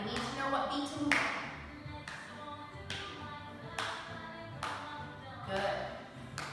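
A group of children at a ballet music and movement circle time claps hands to a regular beat, distinct close claps about once a second repeating through the stretch with light rustling between.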